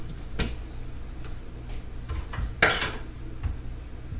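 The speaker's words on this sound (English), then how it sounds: "so I got to get cutting." A knife cuts potatoes on a cutting board, producing sharp irregular clicks and knocks of the blade striking the board, close and fairly loud, with no talking.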